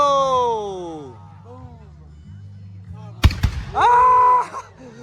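Fireworks at the 2024 Arthur, Illinois show go off with a sharp loud bang, then a sustained bright crackling burst, while excited voices talk and shout over the display.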